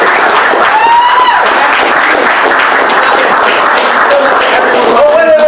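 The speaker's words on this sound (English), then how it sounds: "let's have a big round of applause for Zach," An audience at a tech summit applauds the event host, loud steady clapping filling the hall while voices talk over it.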